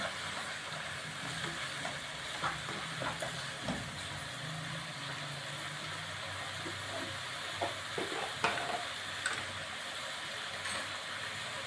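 Chickpeas frying with spices in a pan make a low, continuous sizzle with scattered soft scrapes and clicks of stirring, fairly quiet and steady throughout.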